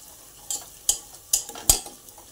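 Homemade black masala spice mix being stirred and sautéed in a pan for a pearl-millet amti, with four sharp spatula scrapes at a steady pace over a faint, low sizzle, close by and with no talking.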